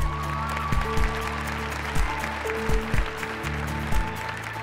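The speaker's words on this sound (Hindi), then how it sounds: "धर्म सिंह जी और उनके परिवार का तालियों के साथ स्वागत किया जाए" Audience applause welcoming a chief guest and his family at a school sports event, a continuous wash of clapping under a sustained musical drone with periodic low thumps.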